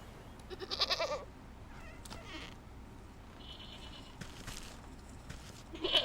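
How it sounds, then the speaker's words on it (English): A video game goat bleats in short wavering cries, once near the start and again at the end, with quiet background sounds between. "This goat is so cute."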